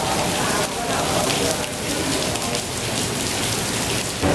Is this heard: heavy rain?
yes